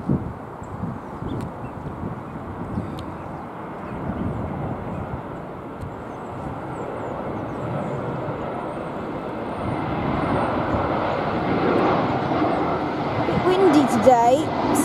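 An Airbus A320 airliner at Heathrow roars past with a broad, rising jet rumble that swells toward the end, heard over wind and faint talk nearby.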